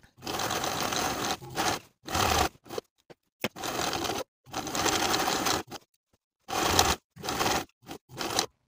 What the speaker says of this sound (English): Now I'm going to edge stitch close to the upper inner fold all the way around